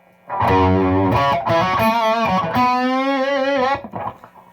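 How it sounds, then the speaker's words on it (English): An electric guitar through a prototype Fuzz Face pedal with a thick, distorted fuzz tone sustains several notes, the sound sweeping with a vocal, cocked-wah filter before fading out. "And you get that cocked wah effect"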